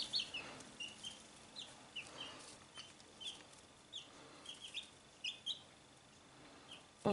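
Newly hatched chicks peep in short, high, repeated calls, scattered irregularly and fairly faint against a quiet background.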